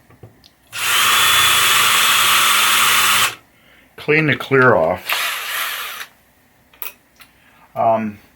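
A loud power drill running in reverse whirs steadily for a few seconds, then stops; a person speaks briefly, followed by a shorter burst of the drill and more talk, during repair of a 1980 Williams Firepower pinball machine.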